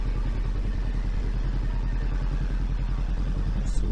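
Motorcycle engine droning steadily and close while riding down a descending road between Tagaytay and Laurel, Batangas, with continuous low rumble and road noise throughout.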